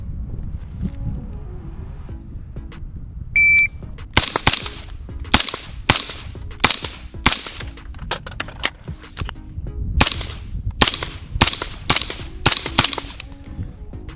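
Pistol shots fired in a timed shooting drill comparing a foregrip with no foregrip, including a reload. A rapid string of loud, sharp cracks gives way to a short gap, then another fast string of shots follows.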